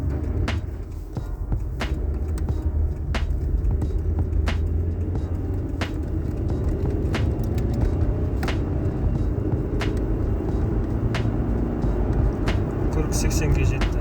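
A Toyota Camry 45 accelerates from 0 to 80 km/h with a steady, full engine rumble heard from inside the car, broken by faint, regular ticking clicks throughout.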